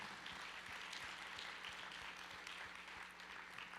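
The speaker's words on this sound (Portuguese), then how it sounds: "Você pode dar uma salva de palmas a Deus por isso?" A church congregation claps together during a Portuguese-language service, the applause faint and distant yet steady throughout, with a low electrical hum underneath.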